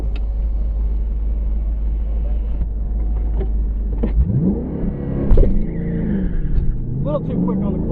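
A 2013 Shelby GT500 launches under full throttle, its engine note sweeping up loudly through rising revs after a steady idle rumble, then revving again; close and powerful with a voice speaking over it.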